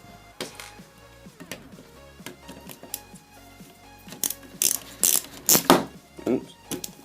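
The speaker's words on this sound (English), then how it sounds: "to do the CPU cooler, you want to remove these 4 screws around here" Screws being removed from the CPU cooler of an old desktop PC: clicking, ratcheting mechanical sounds and sharp close knocks and rattles that grow louder toward the end, with faint background music.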